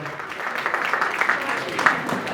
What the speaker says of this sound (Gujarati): એકવાર જોરદાર તાળી વગાડો બેન બનેવી માટે